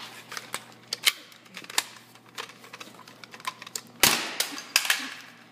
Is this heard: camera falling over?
yes